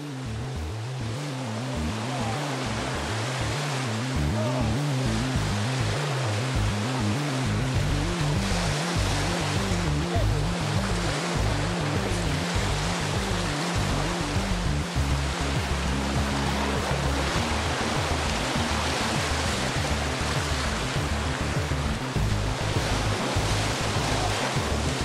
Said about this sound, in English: The Tara River Gorge is one of the most inaccessible and wild waterways in Europe.